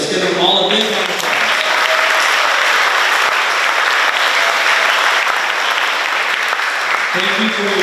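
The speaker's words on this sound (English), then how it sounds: "Let's give them all a big round of applause." Big round of applause from an audience at a school education week ceremony honoring directors and staff, loud dense clapping sustained for several seconds before fading out.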